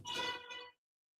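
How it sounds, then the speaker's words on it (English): A mobile phone notification chimes in the background, a brief bright tinkling alert lasting under a second, fairly faint, then silence. "that's my phone going off if you hear that in the background"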